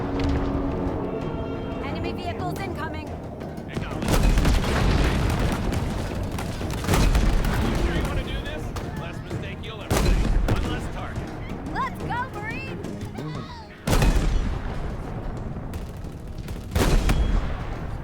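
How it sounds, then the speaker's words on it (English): Scorpion tank main turret in Halo Infinite fires heavy cannon shots with explosive booms, about six loud blasts spaced every few seconds, each with a sharp onset over continuous battle noise and a voice talking throughout. "the devs that designed the sound and animations for the Scorpion's main turret, both its firing and reloading."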